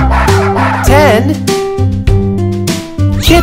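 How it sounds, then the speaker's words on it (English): Small dogs yip and bark in short bursts over bouncy background music, close and fairly loud. "puppies"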